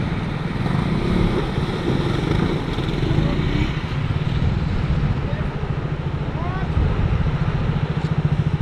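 A motorcycle engine runs steadily in a mountain setting in Zanskar, Ladakh, a continuous close throbbing drone lasting throughout, with voices talking over it.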